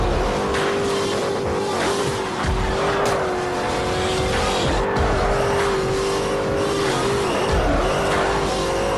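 A Bugatti Veyron drifts through a corner in Forza Horizon, its tires squealing loudly and continuously over a roaring engine for the whole stretch.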